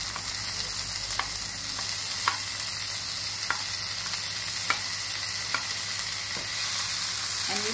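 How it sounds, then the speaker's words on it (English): Tomatoes and ginger frying in a pan for gobhi manchurian, giving a continuous soft sizzle broken by light, regular ticks and scrapes from stirring, close and without speech. "And we'll cook it till the tomatoes become soft."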